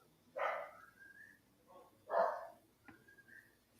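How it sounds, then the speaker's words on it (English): A dog barks twice, two short separate barks at moderate distance with a faint whine between, over a quiet background with no talk. "We've got dog."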